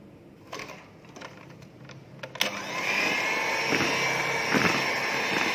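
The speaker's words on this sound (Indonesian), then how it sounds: "Kemudian kita mixer lagi pemirsa dengan kecepatan speed rendah." An electric mixer kneads bread dough with salted butter at low speed for honey jam roll bread; after a quieter start, a steady motor whirr switches on and runs evenly to the end.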